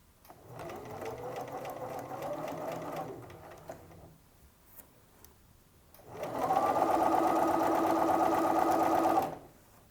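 Sewing machine stitching up the lining at a skirt slit, running in two bursts: a steady whir of about three seconds, a short pause, then a louder, faster run of about three seconds. Close and mechanical, with no talk.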